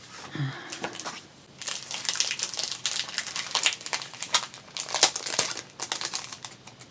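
Sheets of white crafting paper rustle and crinkle as they are handled and sorted during a stamp unboxing, with a run of close, uneven crisp crackles and shuffles over several seconds, no talking.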